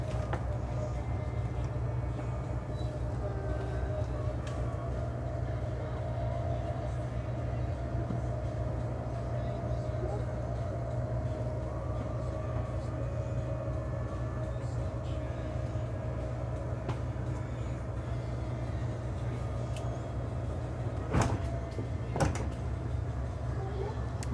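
A Newmar Super Star 2023 motorhome slide-out retracts with a steady, droning motor hum that runs unbroken for over twenty seconds. A couple of faint clicks come near the end.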